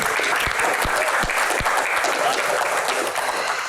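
A studio audience at a comedy talk show breaks into steady, full applause, a continuous wash of many hands clapping close and loud for nearly four seconds, with no talking over it.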